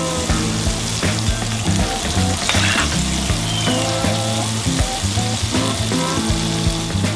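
Crawfish crackle and sizzle steadily in hot oil in a fryer, a dense, continuous bubbling hiss that stays loud and close throughout with no talking.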